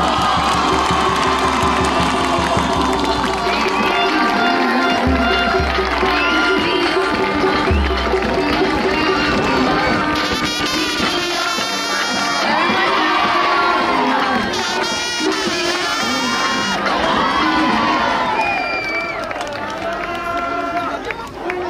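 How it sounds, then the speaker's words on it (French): A large crowd at a French Cup awards ceremony cheers and shouts continuously, with whoops and children's voices, while an amplified announcer talks over the din. "Je vais vous demander un tonnerre d'applaudissements pour les champions"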